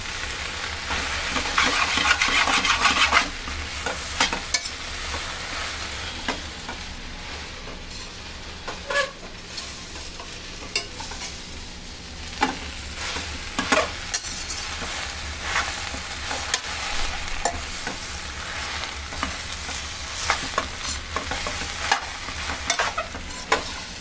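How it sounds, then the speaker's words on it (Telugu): Gongura leaves fry without salt in a pan for pickle, giving a steady soft sizzle broken by frequent scraping, clattering strokes of a stirring spoon. The sizzle is brightest at the start. "వేపుకోవాలి ఏం చేస్తారమ్మా వేపుకోవాలి ఉడకబెట్టకూడదు"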